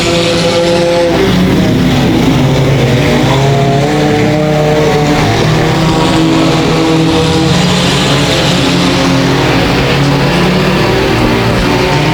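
Race cars lapping a dirt speedway during a race, a constant loud roar of engines revving and passing close by without a break, at a steady high level.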